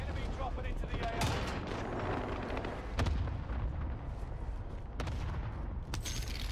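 Heavy, booming gunfire on Rebirth Island in Call of Duty: Warzone, with the Fennec in play, rolls on continuously with sharp shots punching through a dense rumble while voices talk over it.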